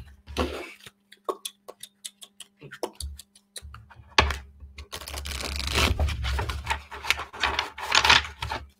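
Tarot cards shuffled by hand in a quiet room: a run of quick soft flicks and taps, then a longer dense riffling and rubbing of the cards, close and fairly loud, with no talk.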